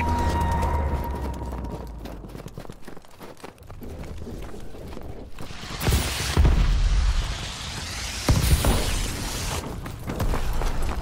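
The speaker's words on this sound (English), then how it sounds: "Enemy missile strikes incoming. Take cover." Enemy missile strikes landing in a war video game, loud booming blasts and rumbling debris that swell in several heavy waves after a short lull, close and dense with no talk over them.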